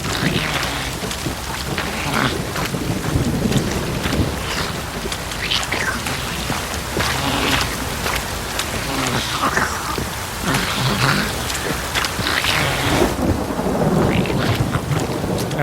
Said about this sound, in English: I'm a sucker for a good rainstorm.